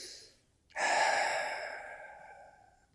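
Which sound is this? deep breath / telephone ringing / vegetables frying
deep breath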